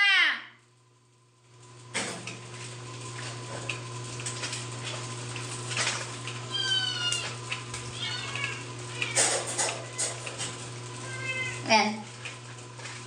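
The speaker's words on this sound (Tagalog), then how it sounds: "Ang bait ng mga pusa!" Several cats meow in a house, with high chirping mews scattered across the clip, while someone talks and calls to them over a steady low hum.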